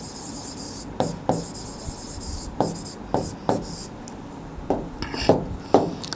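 Chalk or marker writing on a board during a maths lesson, a series of short scratchy strokes in irregular bursts, close and fairly clear over quiet room noise.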